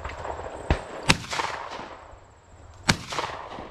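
Shotgun blasts at an outdoor sporting clays shoot on a Wisconsin course: three sharp reports, a lighter one followed quickly by a loud one, then another loud shot near the end, with faint ambient noise between.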